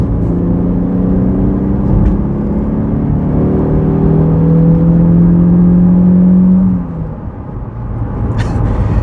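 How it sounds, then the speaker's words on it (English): A Citroën C4 warm hatchback accelerating hard in third gear after a downshift, its engine droning loudly with rising harmonic tones before the revs ease off near the end. "So I'm going to do a downshift to third and floor it, and we'll see what happens."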